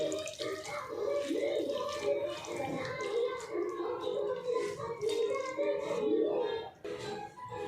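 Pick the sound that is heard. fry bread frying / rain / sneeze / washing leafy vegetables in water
washing leafy vegetables in water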